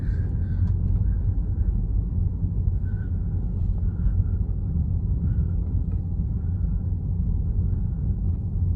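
Interior of a new-generation Chrysler 300S on the move: a steady low road and engine rumble fills the cabin without letting up, with no one speaking.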